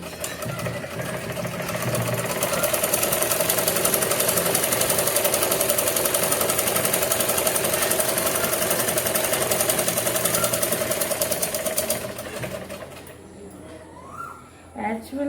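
A sewing machine stitching a short seam with pink thread runs as a loud, close, steady mechanical whir for about twelve seconds, then stops, leaving a few soft handling sounds.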